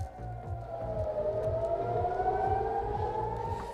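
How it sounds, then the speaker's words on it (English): Civil defense sirens wailing across Israel during a state of emergency as Iranian missiles arrive, a long rising tone, distant and steady, over a low rhythmic rumble. "Sirens across Israel as a state of emergency is declared"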